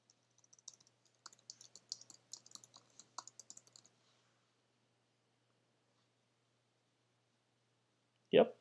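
Typing text on a computer keyboard: a quick run of light keystrokes for about four seconds, then silence, with a brief soft thump at the very end.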